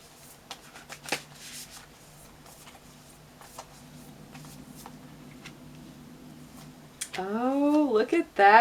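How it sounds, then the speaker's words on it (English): Tarot cards are shuffled for a reading, with soft, irregular riffling and taps throughout at close range, and a voice rising over the shuffling near the end. "let's go ahead and pull some lunar cards"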